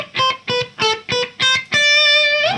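A distorted electric guitar slowly plays a short Bach-inspired picked pattern, five separate gritty notes followed by one longer sustained note, loud and close with no speech.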